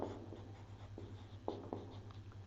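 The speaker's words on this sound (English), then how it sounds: "So we will write the answer." Pen or pencil writing on paper, soft scratchy strokes with a few sharper taps, close and quiet over a low steady hum.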